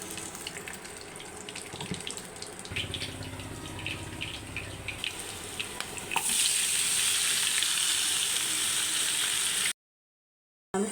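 Turmeric, chili, cumin, coriander powder and garam masala frying in hot oil, a steady close sizzle with faint stirring that swells louder toward the end, with no voices.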